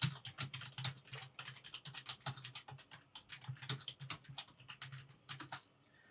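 Fingers typing on a computer keyboard, a quick irregular run of close, crisp key clicks and taps that continues steadily without pause and without speech.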